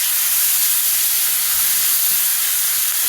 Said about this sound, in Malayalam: ഇനി അതിലേക്ക് ഞാൻ കുറച്ച് വെളുത്തുള്ളി ഇട്ടെടുത്തിട്ടുണ്ട്. വെളുത്തുള്ളി നല്ലോണം പൊരിയട്ടെ കേട്ടോ.